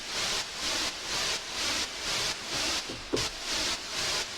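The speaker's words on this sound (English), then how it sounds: "an instance of our Super 8 with just white noise playing" Steady white noise from a Super 8 synthesizer plugin, pulsing in a regular rhythm as it rises and drops roughly twice a second, loud and with no other sound over it.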